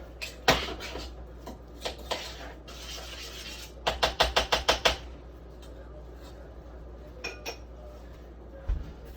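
A cooking pot clatters as it is set back on a home kitchen stove, with sharp metallic clinks, including a quick cluster of knocks midway, amid quiet kitchen sounds.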